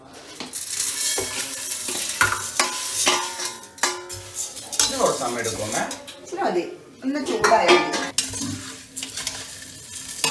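Vermicelli for semiya payasam goes into a pan and is stirred, scraping and frying sounds with clinks of a spoon on metal, while a person talks over it throughout.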